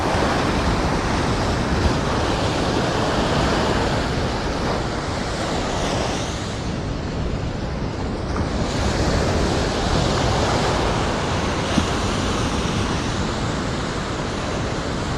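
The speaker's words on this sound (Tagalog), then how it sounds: "Grabe lakas ng alon." Strong ocean surf at Pacific Sunrise Beach in Casiguran, Aurora, a loud continuous roar of breaking waves with wind buffeting the microphone, swelling and easing slightly, no voices.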